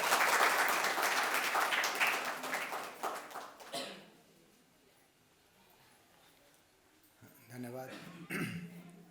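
Applause from an audience at a university event marking National Education Day, a loud burst of many hands clapping that fades out after a few seconds, followed by a quiet room, a cough and a voice beginning to speak.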